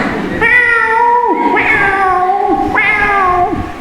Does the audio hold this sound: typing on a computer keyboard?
no